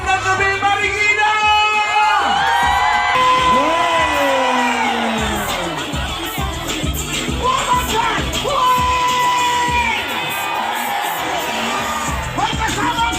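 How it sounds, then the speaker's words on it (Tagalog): A large crowd at an outdoor political rally in Marikina City cheers, whoops and shouts loudly and continuously, with excited voices rising and falling over a constant roar of the gathering. "palakpakan po natin, Eric Nicolas!"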